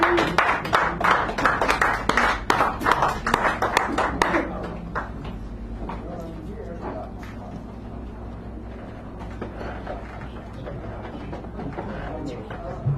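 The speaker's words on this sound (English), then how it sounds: "You can clap." A small café crowd at a San Francisco poetry hour claps loosely for a few seconds, scattered sharp hand claps up close that thin out and give way to quieter room sound and murmuring voices.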